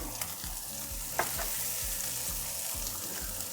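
Sesame oil sizzles steadily in a hot pan for chicken lettuce wraps, a close, even crackle with soft periodic knocks from stirring.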